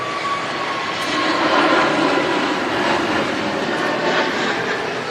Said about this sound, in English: it's a Neo with that whistle to the engines